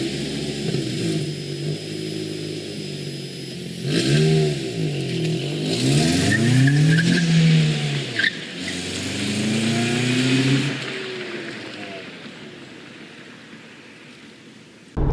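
A very loud motorcycle revs and accelerates past on a street, engine pitch swooping up and down in several rising sweeps as it nears, then fading as it moves away.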